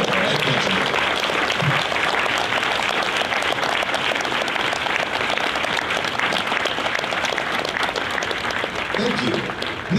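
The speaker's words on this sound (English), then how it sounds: "a round of applause for their dedicated service to your country" Loud, sustained applause from a large crowd honoring Marine veterans at a recruit graduation ceremony at the San Diego recruit depot, continuous clapping filling the whole stretch with a few faint voices mixed in.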